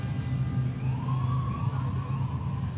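Behind a steady low engine rumble, a police car siren wails faintly in the distance in a slow, rising-and-falling sweep on a city street, with no voices.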